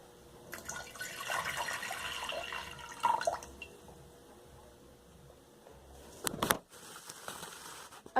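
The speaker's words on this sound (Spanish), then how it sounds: "En este otro recipiente vamos a vaciar las dos sustancias." Hot water is poured into a container already holding cold water, giving a faint splashing, trickling stream in bursts with quieter gaps and a brief louder splash near the end.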